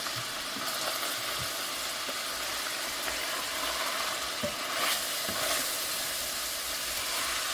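Ground hamburger meat, 80-20 or 83-17, fries in a pan with a steady hissing sizzle and occasional pops and scrapes. It sounds moderately close and quiet, with no talking.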